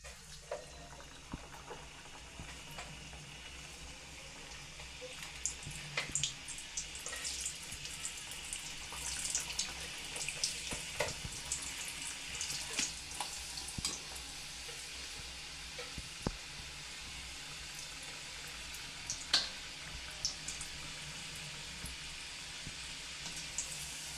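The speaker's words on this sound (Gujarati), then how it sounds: "તેલ આવી ગયું છે તો આપણે ઘૂઘરા તળી લેવાના છે" Ghughra pastries deep-frying in hot oil give a steady, bright sizzle with scattered crackles and pops that run unbroken for over twenty seconds. No one speaks.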